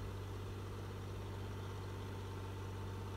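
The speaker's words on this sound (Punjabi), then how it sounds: "Ghazi tractor 65 horse power tractor ਜਿਹੜਾ ਉਹ ਚੱਲ ਰਿਹਾ" A Ghazi 65 horsepower tractor engine runs steadily in second gear, powering a brick-making machine with a constant low, throbbing drone and vibration and no pauses.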